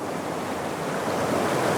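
Steady, dense rush of a waterfall in Tasmania after rain, a constant broadband roar of falling water with no pauses or voices, close by and fairly loud.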